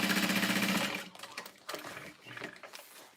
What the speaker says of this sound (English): we're going to sew together the gusset